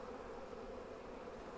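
Honeybees hum in a steady, faint, even drone around an open Flow Hive during a brood inspection, with no voices.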